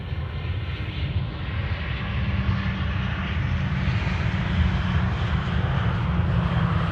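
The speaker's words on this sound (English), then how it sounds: "Croatia Airlines 450 in the Star Alliance livery." Croatia Airlines airliner in Star Alliance livery at Amsterdam Schiphol Airport, a steady broadband engine roar with a heavy low rumble, moderately loud and unbroken throughout with no voices.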